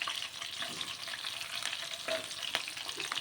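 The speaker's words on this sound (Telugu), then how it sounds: "ఈ ఉల్లిపాయ బాగా ఎర్రగా ఫ్రై అయిపోతే ఈ ఫ్రైలోకి అంత బాగుంటుందన్నమాట" Sliced onions and green chillies fry in a pan for a village-style greens fry, giving a continuous close crackling sizzle with a couple of faint stirring taps.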